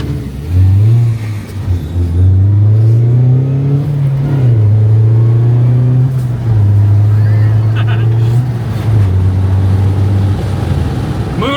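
A car engine revs hard and loud, its pitch climbing and shifting between gears, roaring up close under occasional voices.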